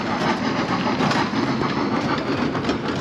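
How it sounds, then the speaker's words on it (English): A small tourist road train passes along a seaside promenade in Gosport, its engine droning loudly and continuously with a rattling, clattering texture, close by and without talk. "there's a little train here"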